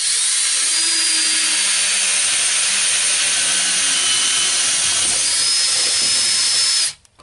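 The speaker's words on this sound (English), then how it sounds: "I'm going to drill a hole through the outside over on this right hand corner" A power drill bores through an exterior house wall, a loud continuous high-pitched whine that holds steady for several seconds before cutting off abruptly.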